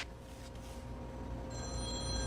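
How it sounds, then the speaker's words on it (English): A mobile phone starts ringing partway through, its steady electronic tones rising over a low background murmur and carrying on to the end. "Oh, that's my phone."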